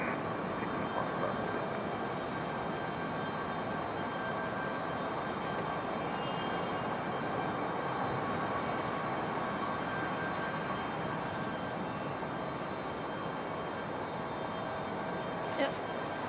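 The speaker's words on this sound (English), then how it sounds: "one just took off with Southwest 2777, a Boeing 737 MAX 8 headed to Phoenix, Arizona" Southwest Boeing 737 MAX 8 jet climbing away from Raleigh Durham airport, a steady broadband engine roar held at even, moderate loudness from a distance, with faint talk underneath.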